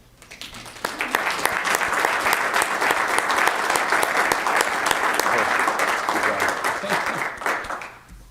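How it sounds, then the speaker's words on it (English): An audience at a county meeting breaks into sustained applause, many hands clapping densely and steadily for several seconds before tapering off. "just give him a round of applause again."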